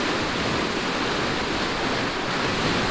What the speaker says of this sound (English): I've never seen so much water coming out the back end of a lock